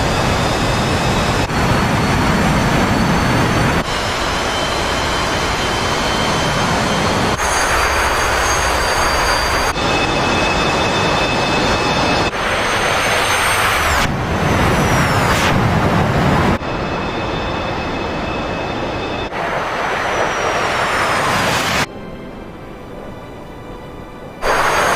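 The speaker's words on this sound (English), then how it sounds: "the Argentines launched Skyhawks and Mirages from Rio" Argentine Skyhawk and Mirage jets roar loudly overhead in a 1982 Falklands War battle scene, a continuous heavy jet engine rumble broken into abrupt segments with whining tones and no speech.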